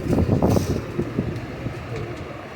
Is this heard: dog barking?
no